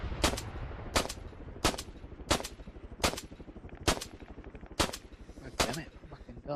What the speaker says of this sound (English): Those guys out there are probably the only ones that can hear me firing.